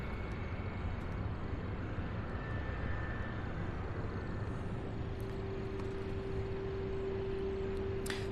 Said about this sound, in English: So we have two 767s coming in on our side here.